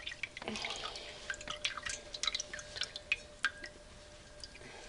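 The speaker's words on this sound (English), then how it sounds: "Take your cheesecloth with your butter in it, lift it up out of the buttermilk" Buttermilk from homemade butter drips back into the bowl as the cheesecloth is lifted: irregular close drops and small splashes, some sharper than others, over a quiet background with no speech.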